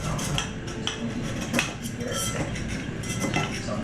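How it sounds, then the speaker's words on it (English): A knife scraped around the rim of a vanilla cake pan, giving repeated light metallic clinks and scrapes close up, steady throughout with no talking. "take a knife and run it around the rim of the pan"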